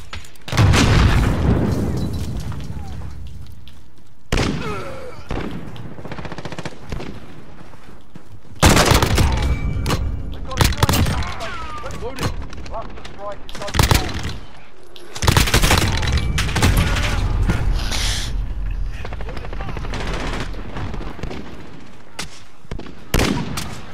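Heavy gunfire and explosions in a Call of Duty team deathmatch on the Rust map: loud bursts of automatic fire, booming blasts and shattering debris come in repeated intense waves, with brief quieter gaps between them.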